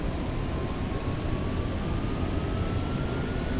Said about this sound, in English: let's start to taxi over to some open water and get in the air